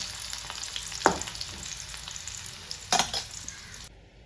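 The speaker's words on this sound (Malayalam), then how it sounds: "സവാള നന്നായി റോസ്റ്റ് ചെയ്തെടുത്തിട്ടുണ്ട്" Onions roast in ghee with curry leaves for a Thalassery dum chicken biryani, a soft continuous sizzle broken by two brief stirring clatters before it cuts off.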